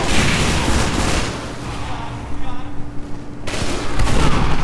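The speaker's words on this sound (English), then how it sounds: "Time to get out the heavy with the mighty Vindaloo cannon." Heavy's minigun in Team Fortress 2 fires as a loud, sustained burst of rapid gunfire in a chaotic game fight, dipping briefly before the roar resumes at full strength.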